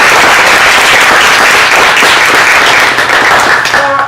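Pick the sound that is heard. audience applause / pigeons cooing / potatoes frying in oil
audience applause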